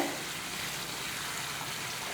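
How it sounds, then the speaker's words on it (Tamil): A pot of anchovy fish curry with raw mango boils hard, giving a steady, even bubbling hiss close by with no talking over it. "குழம்பு வந்து நல்லா கொதிச்சுக்கிட்டு இருக்கு"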